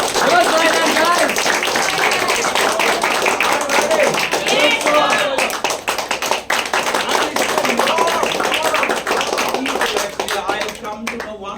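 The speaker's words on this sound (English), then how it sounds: "I want to give a big round of applause." Audience at a leaders conference breaking into sustained applause, a loud continuous wash of many hands clapping with voices and cheers mixed in throughout.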